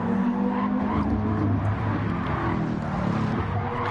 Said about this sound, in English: Bit of drifting round there from K3.